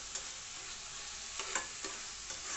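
Ginger garlic paste sautés in oil in a pan for chole, a soft, low-level sizzle with a few light stirring scrapes spaced through the clip, with no talking.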